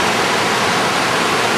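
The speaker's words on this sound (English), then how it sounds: "Here's the creek again, Bubbs Creek." Bubbs Creek, a mountain creek on a backcountry loop, rushes in a loud, steady broadband roar close by, with no talking.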